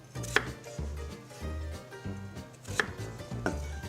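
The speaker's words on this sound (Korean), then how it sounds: "두툼하게 썰어주세요." A knife cuts potatoes into thick half-moons on a cutting board, each slice landing as a firm, hollow chop in an uneven rhythm, close and fairly quiet with no voices.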